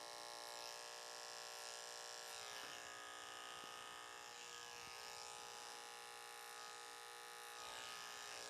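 Electric hair clipper with a large blade cutting a short Princeton-style ivy league haircut, a steady close buzzing hum running continuously with slight shifts in tone as it moves through the hair, no talking.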